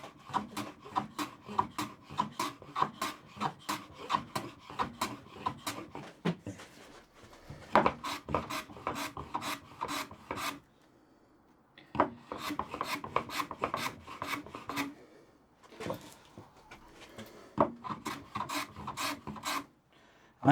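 Repeated rasping strokes of a file or rasp chamfering the edge of a hardwood saw vice jaw, arriving in rhythmic bursts of quick, even strokes with short pauses between, close and fairly loud with no talking.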